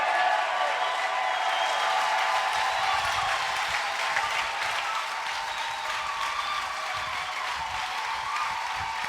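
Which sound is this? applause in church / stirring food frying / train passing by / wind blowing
applause in church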